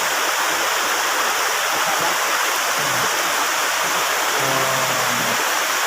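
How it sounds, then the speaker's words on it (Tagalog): Steady, loud rush of a waterfall on a hiking trail, broad and constant from start to finish, with no talking. "yan mga kaibigan ng falls"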